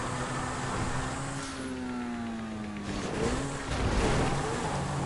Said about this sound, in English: You can just straight up fly in this car.